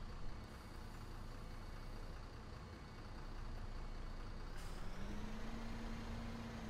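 Iveco Crossway 10.8 m city bus in OMSI 2 pulling away, a steady engine drone with a rising tone as it gets moving, alone with no talk.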